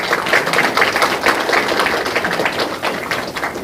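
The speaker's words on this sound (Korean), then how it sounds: "일어나실 때 박수해 주시면 감사하겠습니다" An audience claps steadily at the founding ceremony of a Ulsan chapter of a memorial society, a dense, even patter of many hands close by with no voices on top.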